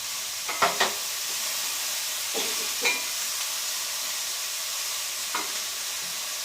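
Chopped garlic sizzles in a hot pan in a small home kitchen, giving a steady frying hiss throughout, broken by a few light scraping stirs, with no one talking.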